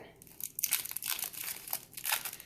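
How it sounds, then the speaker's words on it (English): Crinkly plastic packaging of a planner sticker kit being torn and unwrapped up close, with a steady run of crumpling and ripping rustles. "So let's open the stickers together."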